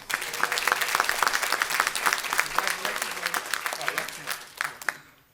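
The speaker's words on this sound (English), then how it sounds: "let's give all of our winners a round of applause." Applause fills a city council meeting as winners are honored, a steady mass of dense clapping with a few cheers and voices mixed in, easing off toward the end.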